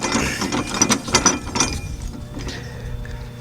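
An adjustment collar spins up the threaded body of a BC Racing coilover during a Galant/Eclipse install, making rapid close metallic ratcheting clicks that taper off into quieter rattling.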